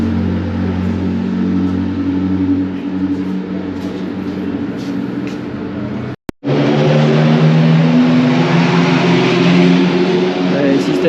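Classic Formula race car engine running on a track, a sustained, buzzing engine note with strong harmonics that cuts out for a split second midway, then returns just as loud.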